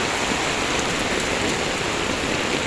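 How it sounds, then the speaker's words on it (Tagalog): Heavy rain pours down in a dense, loud, continuous hiss during a flood in Marikina, with no talking. "lumalakas ang ulan"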